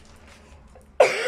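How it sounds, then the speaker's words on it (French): A woman gives a single sharp cough close to the microphone after a quiet stretch, a loud abrupt burst that fades quickly. "je vais me dépêcher de finir cette vidéo parce que je vais pas arrêter de tousser"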